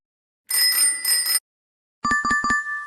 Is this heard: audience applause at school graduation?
no